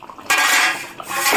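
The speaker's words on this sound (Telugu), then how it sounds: "7 మినిట్స్ అయిందండి, కూర ఓపెన్ చేస్తున్నాను." Metal lid lifted off a pot of traditional Telugu fish curry (chepala pulusu) on a stovetop, giving a sudden bright clatter and scrape of metal cookware that rings on briefly, close up and fairly loud, with no talking.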